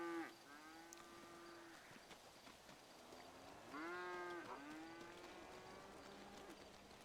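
Cows moo in GTA V, two long, drawn-out lowing calls with rising and falling pitch, fairly near and heard alone over quiet ambient background.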